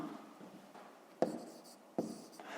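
A pen scratches softly on paper while a number is written down, a faint continuous scribble broken by two sharper taps, quiet and close with no talking.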